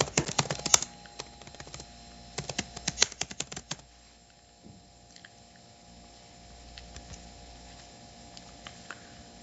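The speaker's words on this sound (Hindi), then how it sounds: "Given name Mohammad, full name same आप लिख सकते हैं।" Quick bursts of typing on a computer keyboard while an online form is filled in, with clustered key clicks near the start, a brief pause, then sparse, softer taps, close and clear, with no one talking.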